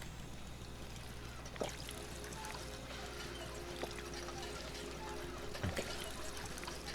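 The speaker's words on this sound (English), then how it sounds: "So we need to drink some water again." Water pours and trickles steadily as a character drinks in Fallout 4, over a constant low ambient hum, with a few faint clicks scattered throughout.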